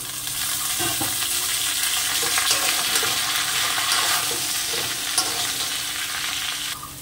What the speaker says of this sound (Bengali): শাপলা কাটা দিয়ে আমি একটু নাড়াচাড়া দিয়ে নিয়েছি।